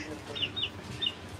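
Pet chickens clucking in a home yard, a few short, soft clucks over a steady background hum while people chat nearby.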